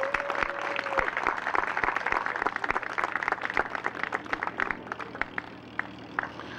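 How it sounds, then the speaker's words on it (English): Audience applause at an outdoor cherry blossom festival marking the Torrance centennial, a steady mass of claps at moderate distance that continues throughout. "So let's give both those ideas a round of applause"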